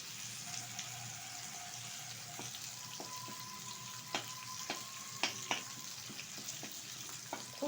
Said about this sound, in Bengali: এখন দিয়ে দেবো থেতো করে রাখা কিছুটা রসুন ভালোভাবে একটু ভেজে নেবো